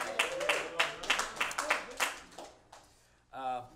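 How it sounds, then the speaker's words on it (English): Thin, scattered applause from a small audience at a jazz trio's live concert, a few claps fading over several seconds before a brief voice is heard at the end. "Thanks for that really lackluster smattering of applause."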